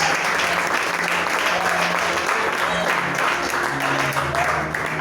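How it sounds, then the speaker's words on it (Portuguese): A church congregation claps loudly for the Lord during a worship service, a sustained dense wall of applause with a few voices and faint tones mixed in. "vamos aplaudir o Senhor bem forte"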